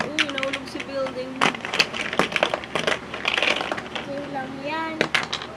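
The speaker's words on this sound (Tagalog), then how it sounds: "Uy, nahulog si building." Plastic Lego blocks in a built-up tower clatter and knock as the tower topples, with several sharp bursts of clicking pieces while a voice talks over the scene.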